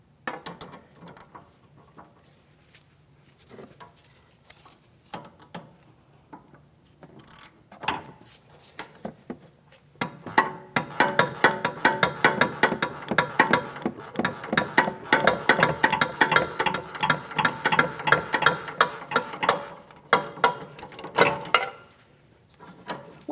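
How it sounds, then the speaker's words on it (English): Rapid clicking of an 18mm ratcheting wrench backing off a front sway bar link mounting nut on a 2016-2025 Chevrolet Malibu, quiet and sparse at first, then a dense run of close ratchet clicks before stopping. "I'll use an 18mm ratcheting wrench to finish removing this mounting nut"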